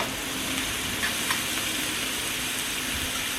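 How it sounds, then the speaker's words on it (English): Steady soft sizzling of garlic and onions frying in a pan, a continuous gentle crackle and hiss with no talking. "Oh, look at that sizzle!"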